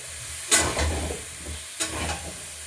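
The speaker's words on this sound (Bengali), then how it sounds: "এবার একটু আমি জল দেবো দিয়ে এটা কষাবো মশলাটা ফুলে যাবে" Spice masala sautéing in hot oil in a home kitchen, a low steady sizzle broken by two sharp bursts of stirring scrapes, close and fairly quiet with no voices.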